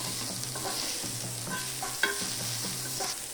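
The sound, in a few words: onions being sautéed and stirred in a pan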